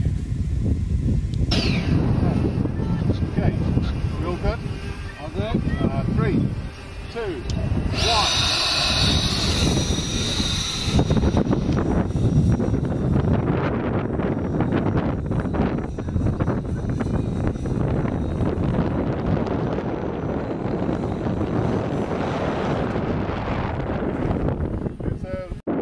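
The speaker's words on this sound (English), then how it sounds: "We're going to be running on 2700 batteries, 4-cell, on a 64mm EDF." A 64mm electric ducted fan model jet on 4-cell 2700 batteries flies outdoors, its steady whine and rushing air droning loud throughout with wind buffeting the microphone and people talking over it.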